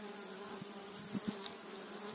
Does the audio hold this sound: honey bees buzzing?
yes